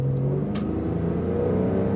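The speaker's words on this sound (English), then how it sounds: "Accelerates wonderfully, as you might expect." A 1999 Porsche 911 Carrera Convertible automatic's engine hums and rises steadily as it accelerates, a smooth continuous drone heard from inside the cabin with no talk.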